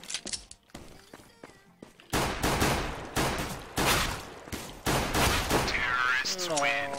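Rapid bursts of Glock pistol fire in the video game Counter-Strike, a string of sharp, close shots in quick succession with mechanical clicks, after a quieter stretch of scattered single shots.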